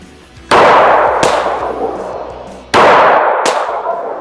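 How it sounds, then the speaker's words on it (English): Smith & Wesson M&P 5.7 pistol fired at a range: two pairs of loud, sharp gunshots with ringing echoes, close by. "I'm gonna go ahead and send some shots down range."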